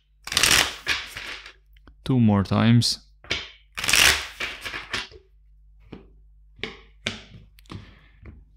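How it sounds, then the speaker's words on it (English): Tarot card deck shuffled several times, giving brisk riffling bursts between stretches of close speech, with a person talking throughout. "Let's shuffle 4 times the deck."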